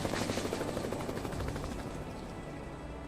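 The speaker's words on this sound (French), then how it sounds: "l'hélicoptère est là et il est en train de transporter le Hansi Monster jusqu'au lac" Helicopter airlifting a large sea creature to a lake, heard as a steady rapid rotor chop that stays loud and close throughout, slowly easing slightly toward the end with no talking.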